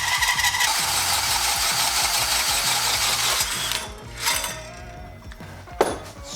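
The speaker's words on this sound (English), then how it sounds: "There's our hole saw." A hole saw bores through material in a steady, loud grinding whir with a rapid mechanical chatter for nearly four seconds, then stops, leaving a few brief scrapes and a sharp knock near the end.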